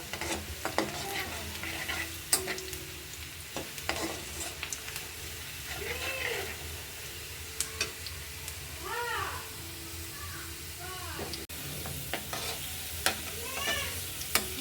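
Masala-marinated prawns frying in a pan of reddened spice paste, sizzling steadily with stirring clatters. A cat meows several times in the background.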